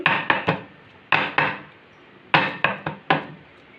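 A cake tin holding semolina batter for an eggless suji cake gets shaken and tapped against a surface, making three clusters of sharp metallic knocks, two to three hits each, close and clear with short pauses between.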